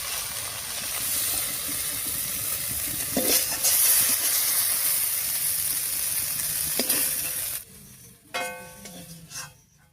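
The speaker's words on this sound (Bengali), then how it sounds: "নরম হয়ে একবারে ভাজা ভাজা হয়ে কড়াইয়ে লেগে গেছিল" Taro stems with dried fish stir-fried in a wok, cooked without water until soft and sticking to the pan: loud steady sizzling with scraping stirs, then the sizzle suddenly drops to a quieter crackle near the end.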